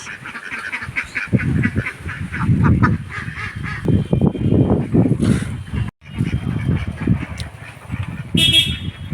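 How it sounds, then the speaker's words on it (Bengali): Domestic ducks in a farm field give repeated loud honking quacks as they scatter and run off, calls coming in busy overlapping bursts with a brief pause near the middle. "তোমাকে দেখে পালিয়ে যাচ্ছে হাঁস।"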